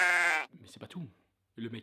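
A single loud, quavering sheep bleat plays as a comedic sound effect, cut off abruptly and followed by someone speaking French.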